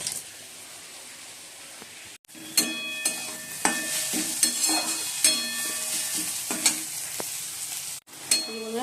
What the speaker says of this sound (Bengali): মশলাটাকে কষাচ্ছি